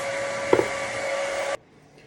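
A hair dryer blows hair with a steady, loud whirring hum, with a couple of small knocks partway through, then switches off abruptly.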